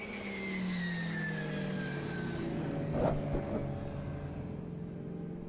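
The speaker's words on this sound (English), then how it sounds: "you can see the car squats and sets off again" A drift car at a British Drift Championships pro battle at Teesside accelerates away, its engine note rising and then falling off into the distance, with a brief burst of noise midway through and no talk.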